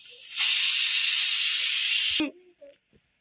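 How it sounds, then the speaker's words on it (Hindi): A pressure cooker lets out a loud, steady steam whistle for about two seconds and then cuts off abruptly, followed by faint clinks and quiet kitchen sounds while banana fritters are being prepared. "सेपटे आम प्रेशर कुकर पूरा सीटी मारुची"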